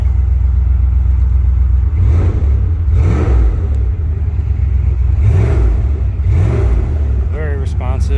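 A 1994 Jeep Grand Cherokee built as a rock crawler idles with a steady low rumble, its engine rising in several short revs spaced a few seconds apart, loud and close with no talking.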